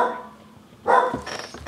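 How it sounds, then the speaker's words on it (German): A small dog gives a single sharp bark close by, rising out of a quiet room background partway through, with a brief yelping tail after it. "Ein kleiner, lustiger Hund"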